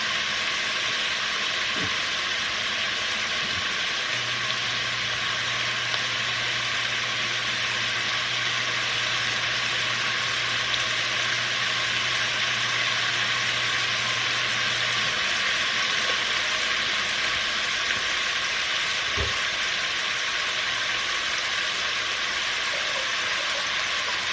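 Sausage browning in a pan, giving a steady, dense hiss of frying that holds unbroken throughout, with a low hum running underneath for a stretch and a faint click or two.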